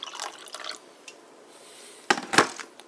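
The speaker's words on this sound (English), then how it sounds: "you pour in the water" Water poured into a mug over two spoons of orange Gatorade mix, soft trickling and dripping at first, then a louder splashing burst near the end, close and quiet.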